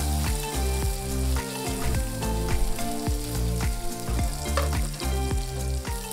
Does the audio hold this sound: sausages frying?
yes